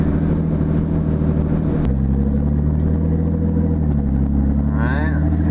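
Turbocharged Nissan 280ZX engine pulling hard on a test drive, a loud continuous drone that drops pitch at a gear change and then climbs again, with speech over it.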